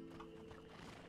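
A horse neighs in A Plague Tale: Innocence, a brief quiet whinny with faint hoof clops, soft and somewhat distant.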